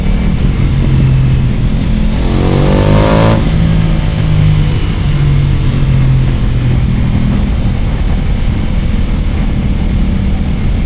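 A Ducati Pikes Peak motorcycle with a Stage 1 upgrade idles loudly and close, its engine note surging in one quick rev near the start before settling back to a steady, rumbling low-RPM drone.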